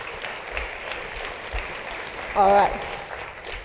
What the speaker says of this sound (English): I want you to give yourself a round of applause for being here